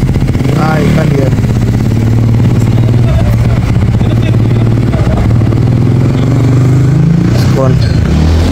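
A motorcycle engine revs up and down loudly while someone rides wheelies, its droning pitch rising and falling throughout with voices talking over it.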